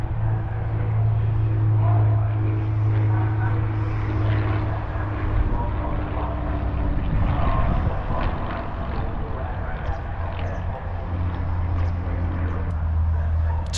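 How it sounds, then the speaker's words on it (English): A Supermarine Spitfire two-seater flies overhead near the Brands Hatch racing circuit, its propeller engine a loud sustained drone that swells and fades over background crowd and track noise, with voices talking. "That's a Spitfire."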